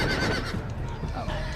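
A horse neighs in the Game of Thrones Telltale video game, a loud whinny mixed with hoof clatter and game noise, while a person talks over it.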